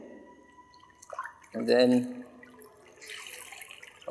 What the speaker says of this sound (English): I'm going to dip this in ice cold water again